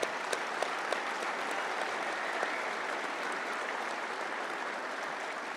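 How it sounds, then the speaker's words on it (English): A luncheon crowd at the Little Rock Touchdown Club applauds a former football player in a steady, dense wash of clapping that holds at an even level for several seconds, with a few sharper claps standing out at the start. "let's give our man Keith Jackson a big round of applause"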